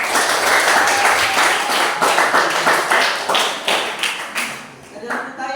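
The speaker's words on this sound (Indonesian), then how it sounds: "Berikan aplaus buat mereka." Classroom audience applause for a student group that has just presented its work on the Kutai kingdom, dense steady clapping that continues throughout, thinning slightly toward the end.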